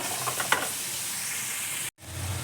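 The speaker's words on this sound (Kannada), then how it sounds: "ಇಷ್ಟು ಚೆನ್ನಾಗಿ ಫ್ರೈ ಆಗ್ತಾ ಇದೆ ಈರುಳ್ಳಿ ಸಹ ಚೆನ್ನಾಗಿ ಫ್ರೈ ಆಗಬೇಕು" Onions frying in hot oil give a steady close sizzle with a few stirring scrapes early on, then a brief cut to silence before the hiss resumes.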